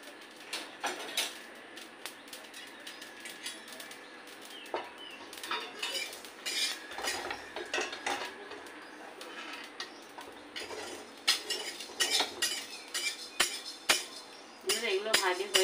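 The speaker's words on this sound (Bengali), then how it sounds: "এগুলোকে নাড়াচাড়া দিয়ে দিয়ে দিয়ে দিয়ে ভাজতে হবে ভালো করে।" Metal utensils clatter and scrape against a frying pan as ingredients are stirred while frying, with irregular clinks and taps running throughout, fairly close and moderately loud.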